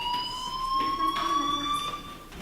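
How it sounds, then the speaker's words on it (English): A fire alarm sounds steadily inside the Life is Strange video game, a loud continuous electronic ringing tone with stacked harmonics that holds throughout, with faint background game ambience and no speech. "do you hear that fire alarm?"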